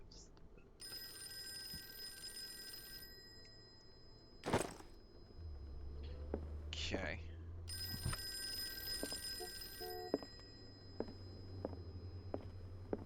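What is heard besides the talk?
telephone ringing in Call of Cthulhu video game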